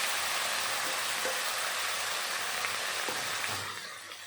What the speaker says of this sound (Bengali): তেল ভালো মতন গরম হয়ে গেল, তারপরে দিয়ে দিলাম মেখে রাখা লতিগুলো।